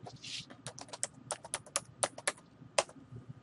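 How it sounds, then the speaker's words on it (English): Keys on a computer keyboard tapped in quick, uneven bursts of close, crisp clicks while a name is typed in, with no voices. "Type the name and hit the Enter key."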